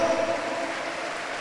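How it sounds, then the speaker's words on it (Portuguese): A congregation at a Catholic Lenten Mass claps in a dense, steady wash, brief and moderately loud with no voices over it. "Dê uma salva de palmas para Jesus"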